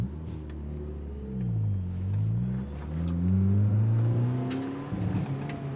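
An Eagle Talon DSM car drives close by, its engine revving and accelerating in repeated rising and falling sweeps that grow louder toward the end, with no voices.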